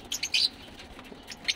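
Iraqi Ghandour pigeons give a few short, high chirps and squeaks close by, scattered over a quiet background.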